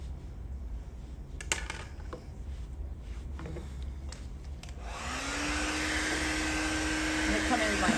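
A steady blow dryer whir starts about halfway through, loud and constant, after a quieter stretch with a few soft clicks and handling noises.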